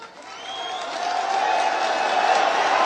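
A large crowd at a public event welcoming Prime Minister Narendra Modi breaks into applause and cheering that swells from quiet to a loud, sustained roar of clapping.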